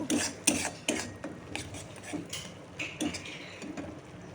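Spices with turmeric, chilli powder and cumin powder being stirred and scraped in a pan with a spatula, a close, rhythmic rasping with occasional clinks and a soft sizzle underneath.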